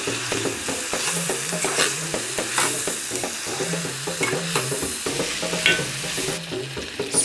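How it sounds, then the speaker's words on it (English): A beef and potato curry bubbles and sizzles in a cooking pot, with steady stirring scrapes and a background tune running beneath. "So we'll have a little simmer going on for the potato to soften a little."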